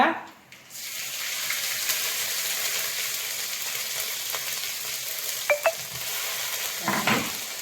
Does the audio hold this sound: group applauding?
no